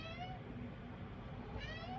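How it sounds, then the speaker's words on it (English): A cat meows loudly twice, a drawn-out call at the start and another near the end, close by over a low indoor background hum. "Cat is being very, very loud today."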